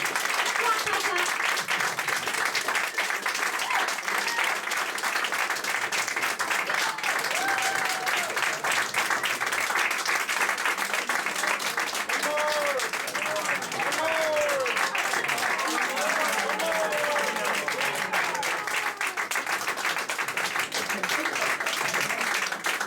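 An audience at a house concert applauds warmly and continuously, dense clapping filling the whole stretch with whoops and voices mixed into it.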